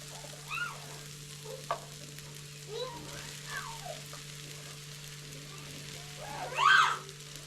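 Clams are stirred into curry masala in a pan, giving a soft, steady sizzle with a few louder scraping stirs over a low background hum.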